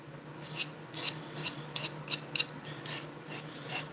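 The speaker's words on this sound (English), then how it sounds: "hit the edges slightly with a file" A chainsaw file rasps along the edges of a fluffy sling, rhythmic strokes repeating about every half second, close and clear over a steady low hum.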